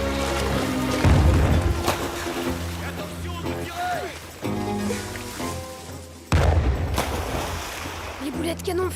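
Cannon fire booming over a river in an action film, with several heavy deep thuds spaced seconds apart amid water and ambient score, some speech mixed in.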